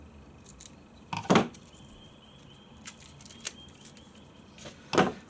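A knife cuts through a stick of epoxy putty and a plastic wrapper is peeled off, giving a few sharp crisp snips and crinkles spaced out over quiet background, close and fairly faint.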